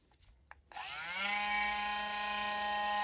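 A rotary tool spinning up to a steady high-pitched whine at 15,000 RPM while grinding a Spyderco Yojimbo 2 knife blade, preceded by a few small clicks, then holding a constant loud tone.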